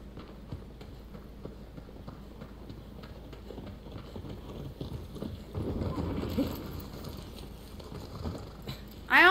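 Horse hoofbeats in the Shadow of the Colossus video game, a steady clip-clop gallop at moderate volume, growing louder midway, with a brief sharp sound at the very end.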